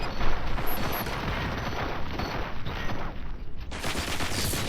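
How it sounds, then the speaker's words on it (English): Heavy sustained gunfire in the video game RoboCop: Rogue City, a continuous loud fusillade of overlapping shots that keeps going throughout. "Fire at will."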